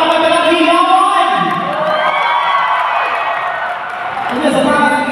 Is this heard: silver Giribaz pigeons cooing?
no